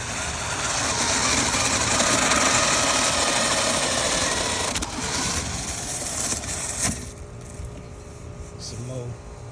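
A clothes dryer runs steadily with a loud, broad rushing hum while its vent is cleared by a brush, easing off slightly toward the end.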